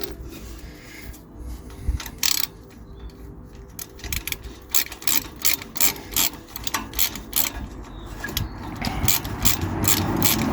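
A ratchet tightens an exhaust clamp on a Citroen C1, giving close, uneven runs of metallic clicking that speed up and grow louder toward the end.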